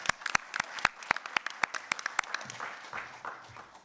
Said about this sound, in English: thank you for clapping, I was going to encourage everyone to clap, and it came spontaneously